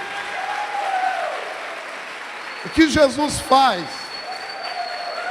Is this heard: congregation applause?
yes